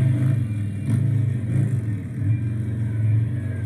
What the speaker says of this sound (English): The revving of the engine tells me we're coasting.